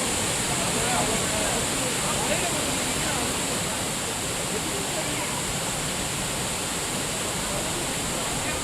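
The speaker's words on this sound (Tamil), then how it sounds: "மேற்கு தொடர்ச்சி மலைப்பகுதிகளில் கனமழை குறைந்ததால் குற்றால அருவிகளில் நீர்வரத்து சீரானது." The Courtallam waterfalls in the Western Ghats hills of Tamil Nadu, running at a steady flow after heavy rain, give a loud, unbroken roar of rushing water from start to finish.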